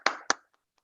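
Two sharp, close claps from a small gathering at a Canadian celebration of Black Canadian excellence in medicine, then a couple of faint taps as the sound dies out.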